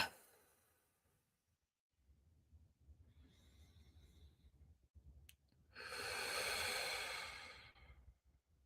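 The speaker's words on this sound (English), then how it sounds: "we're going to breathe in through our nose, out through our mouth" Slow deep breathing in through the nose and out through the mouth during a focus exercise: a quiet inhale, then a long, louder, breathy exhale near the end, close and with no talking.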